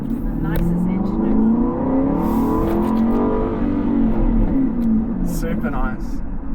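Aston Martin Vantage V8 revving hard and close, its engine note sweeping up and down through several rises in a loud, continuous roar, with voices briefly audible over the top.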